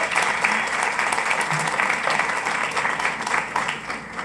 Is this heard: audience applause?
yes